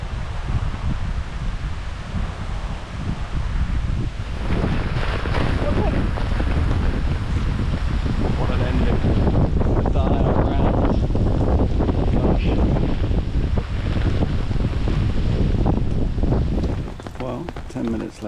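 Wind and rain whip across a Scottish golf course in a loud, continuous gusty roar that buffets the microphone hard, with heavy rushing bursts that ease slightly near the end.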